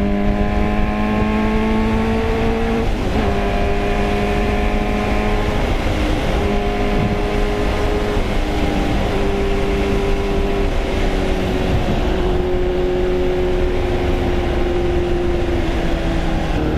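A 1989 Yamaha FZR400R inline-four motorcycle screams at high revs, its sharp, piercing engine note holding and wavering in pitch with brief drops between pulls, loud and close, with no talk.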